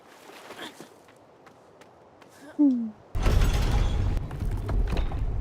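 A mechanism in the video game Praey for the Gods opens to drain water, giving a brief creak followed by a sustained loud rushing, grinding churn that carries on steadily to the end.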